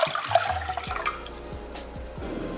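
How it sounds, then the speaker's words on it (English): Dashima (kelp) water is poured into a medium cooking pot as a short, splashy stream that fades out, with a few soft knocks underneath. "Prepare a medium pot and let's add in our dashima"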